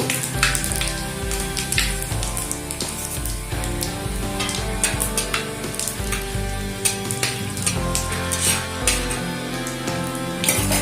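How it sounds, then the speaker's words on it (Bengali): Panch phoron and whole dried red chillies fry in mustard oil in a kadai, a loud, close, continuous sizzle full of rapid popping and crackling spatter, with no talk. "ফোড়নটা একটু ভাজা হতে দেব।"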